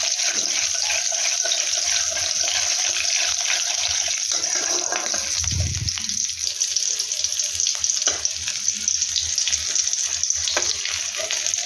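Fenugreek seeds and a couple of slit green chillies frying in hot oil give a steady, fairly quiet sizzle that runs throughout, with faint clinks and a soft low thump midway.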